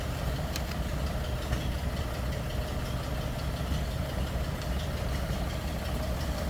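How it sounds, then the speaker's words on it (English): A 1936 Ford flathead engine idles steadily on a woody wagon, a continuous low rumble with faint knocking texture, close and even throughout with no talking. "Sounds like you'd expect a flathead to sound."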